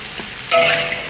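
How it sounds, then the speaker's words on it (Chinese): Fish stir-fried in a wok with ginger and chopped chili, a close, loud sizzle that bursts in suddenly after a quiet hiss and keeps crackling. "稍微炒一下以后呢，再把鱼重新倒进去"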